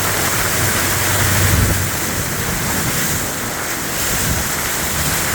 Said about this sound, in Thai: ตอนนี้สถานการณ์น้ำครับ ไหลเอ่อออกมาจาก กลางฟุตบาทของถนน